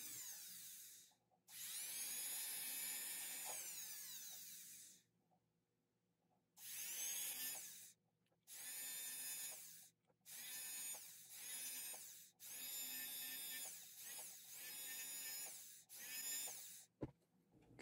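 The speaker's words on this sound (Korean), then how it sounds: "거들이 걸리는 부분을 주판바로 살짝 파냅니다." A rotary bur drills and carves a wax prong setting in a series of loud, high-pitched whining bursts, each lasting one to three seconds and separated by brief pauses, heard up close without any talking.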